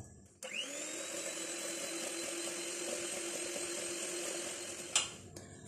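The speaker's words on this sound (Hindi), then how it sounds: "अंडे के साथ अब इसको बीट करते हैं।" An electric beater whirs steadily through butter, sugar and egg, with a sharp start, a sustained high motor whine, and a clean stop just before the end.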